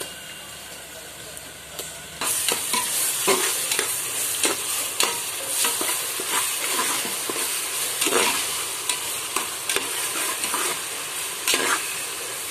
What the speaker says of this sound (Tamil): நல்ல இந்த பச்சை வாசனை போகிற வரைக்கும் நல்லா வதக்கிக்கலாம் ஃப்ரெண்ட்ஸ்